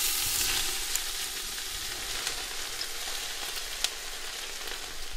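Rice goes into a hot pan over garlic cloves and sea bass, crackling in a steady, close sizzle with small pops scattered through, no voices.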